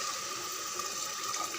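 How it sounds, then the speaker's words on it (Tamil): First-press coconut milk is poured into sautéed masala in a pan, giving a steady, continuous liquid pour close to the microphone. "இந்த டைமில் நம்ம எடுத்து வச்சுருக்கிற தேங்காய் பால் ஃபஸ்ட்டு பால் அப்படியே சேர்த்துருங்க."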